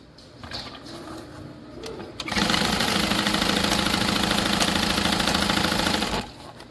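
A sewing machine stitches a side panel of a Monroe handbag, starting with a sudden loud, steady mechanical whir that runs for about four seconds before it stops, with quieter handling noise on either side.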